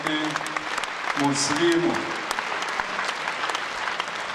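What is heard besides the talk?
audience applause at a concert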